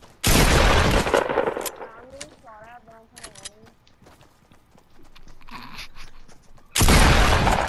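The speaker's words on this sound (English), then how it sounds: "She's getting shot at." Fortnite gunfire arrives as two loud, dense bursts of rapid shots, one opening the clip and another near the end, with quieter game sounds and a brief voice in between.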